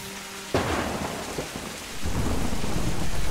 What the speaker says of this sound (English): Thunder makes me jump in video games because it's just surreal.